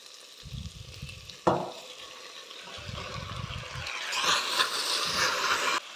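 Tomatoes go into a hot pan of frying onions, cashew nuts and a dry red chilli, with a sharp splash then steady sizzling and stirring that grows louder toward the end, close up.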